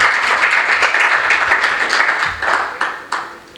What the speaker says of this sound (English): You can applaud Desiree for that.